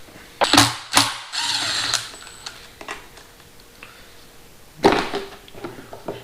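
A T25 Torx bolt being loosened on the transmission filter of a 2006 5.7 Hemi, with close metallic clicks and ratcheting bursts, a rattling stretch early on and another burst near the end, no talking.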